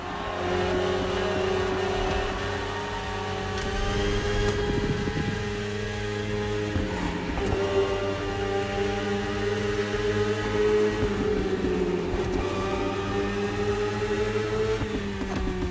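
A BMW S1000RR superbike engine in the racing game The Crew Motorfest drones at a steady high pitch with layered harmonics, its tone rising and dipping slightly as the bike holds speed, loud and continuous with no voices.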